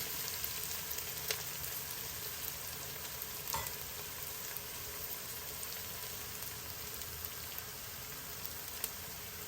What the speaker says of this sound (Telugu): మన అల్లం వెల్లుల్లిపాయల పేస్ట్ బాగా వేగుతుంది కదా